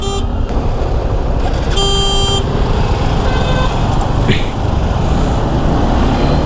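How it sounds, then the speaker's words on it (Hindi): Car horns honk in busy street traffic at a signal turning green, a couple of short blasts and a longer one over constant road noise and engine rumble. "सिग्नल ग्रीन हुआ नहीं कि अपने यहाँ पे हॉर्न देना चालू कर देते लोग।"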